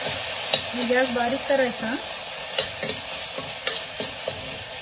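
Onion and roasted peanuts fry in hot oil with a steady sizzle, broken by scraping stirs from a spoon, while a voice speaks briefly over the cooking.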